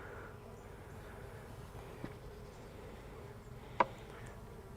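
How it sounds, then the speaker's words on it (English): Honey bees hum faintly and steadily around a beekeeper's hive on a farm near a wildflower field, with a couple of brief clicks breaking the low, distant buzz. "Got a bee stuck in here."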